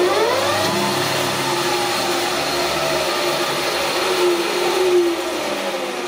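A large metal lathe turns a cylinder liner puller plate for a Massey Ferguson 65 tractor at about 900 RPM, giving a loud, steady whirring machine drone with shifting tonal whine and no talk.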